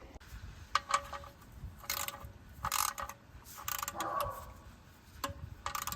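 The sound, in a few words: ratchet or torque wrench tightening on a Toyota Highlander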